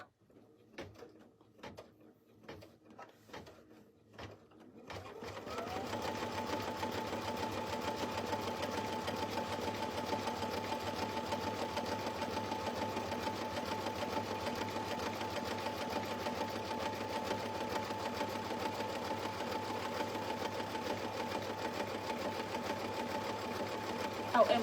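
An embroidery machine stitches an in-the-hoop slap bracelet. A few sharp clicks and knocks come first, then a steady, rapid mechanical whir of stitching runs close and continuous for about twenty seconds.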